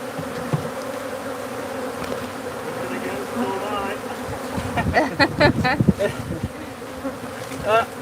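Honey bees buzzing steadily around an open hive, a dense close drone with a few louder individual bees passing near the end and faint background sounds.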